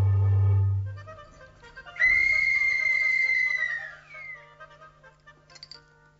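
A whistle made of a flat small tube with a cavity gives one steady, clear high tone for about two seconds before it fades, following a brief low thump, with no talking.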